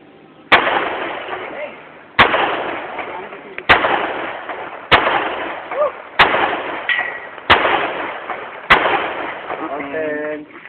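Seven loud, sharp gunshots from a Norinco NP44 .45 ACP high-capacity pistol being test fired, spaced about one to two seconds apart, each with a short ringing echo. Brief voices and faint whistles are heard between shots.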